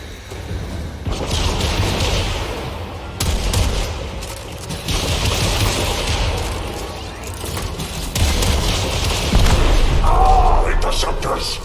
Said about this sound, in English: We're going to have to use the side guns